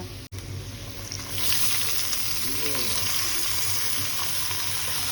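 Spiced banana flower goes into a pan of frying potato and coconut, setting off a loud, steady sizzle up close after a brief clatter, with a little stirring.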